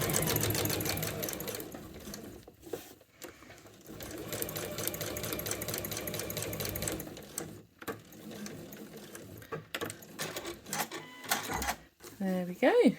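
Sewing machine stitching a piped cushion cover, running in long steady bursts with brief pauses, then a few short stop-start runs near the end, close and fairly loud.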